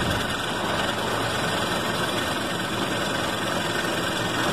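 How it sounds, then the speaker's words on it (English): A 5/8 bowl gouge shapes the outside of a Sipo mahogany bowl spinning on a wood lathe, giving a steady, dense broadband hiss and rumble that holds constant and loud for the whole stretch, with no talking. "I'm just using my 5/8 bowl gouge to try to shape the outside, trying to get the outside of the bowl sloped up to the points"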